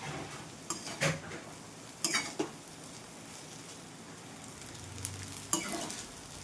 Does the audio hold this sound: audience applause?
no